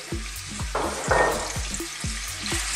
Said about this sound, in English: So we're going to just fry this around.